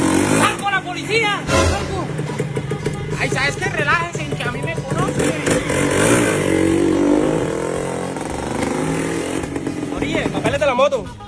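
A motorcycle engine runs and revs nearby at a police stop, its fluctuating mechanical drone sitting under loud, overlapping talk from several people throughout.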